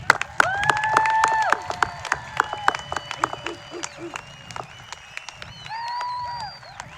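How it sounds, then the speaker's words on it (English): At the West Bend East 2020 graduation ceremony, the audience gives the graduating class a final round of steady, moderately loud applause, with sharp individual claps standing out and some cheering. "Let's have one final round of applause for our class of 2020."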